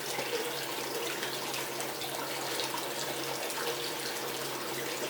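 Water runs steadily through a spiral gold wheel recovering gold, a constant splashing, trickling wash like a running tap, close and even with no talking.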